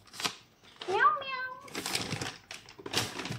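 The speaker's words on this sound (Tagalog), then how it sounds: "Nandito yung isang makulit na meow meow." A cat gives a short, rising meow among rustling and handling noises near a bag of cat food, with people talking in the background.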